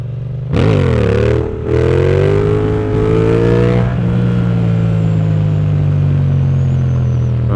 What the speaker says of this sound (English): you can probably hear it in the engine when I start doing it